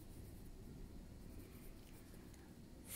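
Notes written by hand during spiral wire hook jewellery making, a faint, close, continuous scratching of pen on paper over low room hiss.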